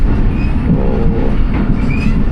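Rehman Baba Express (47 Up) running on the Wazirabad–Khanewal branch line past Mard Balocha station in Pakistan: steady, loud rolling rumble of the train with faint wheel clatter throughout.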